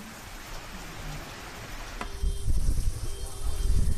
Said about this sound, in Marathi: अवकाळी पाऊस सुरू असल्याचं पाहायला मिळतंय